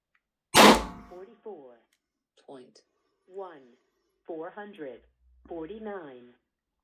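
A single sharp crack from a Pistelle X68 air pistol firing at 44 joules, followed by someone speaking in short phrases.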